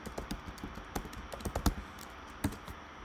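Quick clicking keystrokes on a computer keyboard, irregular taps up close with a firmer key press near the end, in a quiet room.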